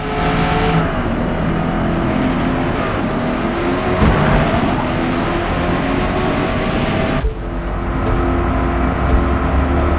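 A Corvette E-Ray engine drones loudly and steadily through a lap at Maple Valley in Forza Motorsport, with a brief dip as it shifts or eases off before pulling hard again.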